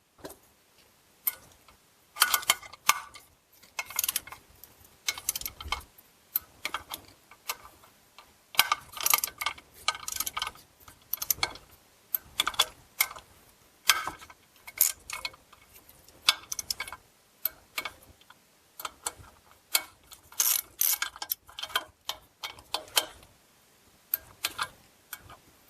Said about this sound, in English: get all those torqued to spec, then we're going to do an additional 90 degrees